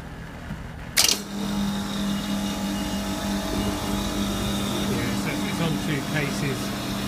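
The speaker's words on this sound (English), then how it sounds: "Sounds like we've got a bearing going in that fan as well, it's a bit of a squeak." A refrigeration compressor and fan run with a steady hum, a sharp click starting it up, and a faint recurring squeak from a worn fan bearing.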